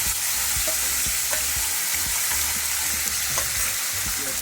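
Ginger garlic paste fries with spices in a pot for Kashmiri mutton rogan josh, a loud, steady sizzle with occasional stirring scrapes throughout.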